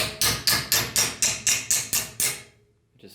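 A small brass hammer taps sheet metal on a Nissan Hardbody D21 minitruck being fitted with an independent rear suspension, giving nine sharp, evenly spaced ringing strikes close by, then quiet.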